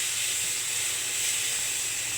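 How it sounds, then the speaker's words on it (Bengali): Spice paste with turmeric, cumin, salt and sour yogurt frying in a pan for a parshe fish curry with nigella seeds, giving a steady, loud, close sizzling hiss with no break. "মশলাটা দিয়ে কষাইয়ে নেব"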